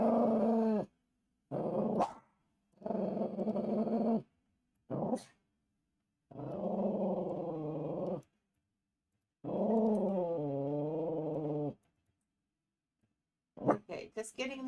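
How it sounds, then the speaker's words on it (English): A female dog growls in a series of separate, drawn-out rumbling bursts broken by short silences, close and fairly clear, with a sharper burst at the very end. "I love it when she growls and chews on her tongue."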